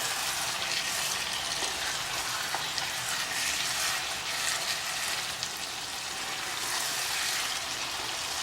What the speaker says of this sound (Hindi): मैं इसमें थोड़ा सा पानी का प्रयोग करूंगा।